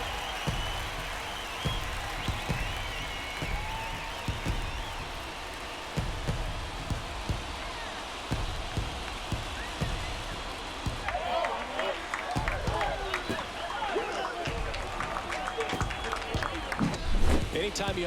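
Virtual ballpark crowd roars steadily after a game-tying home run in MLB The Show 24 during World Series Game 5, a dense sustained cheer with scattered claps swelling near the end, under ongoing commentary.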